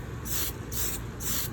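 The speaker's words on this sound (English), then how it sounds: "let's see, it's spraying." An aerosol spray paint can hissing onto a NASCAR model car body, three even bursts of about half a second each with short pauses between, close and clear.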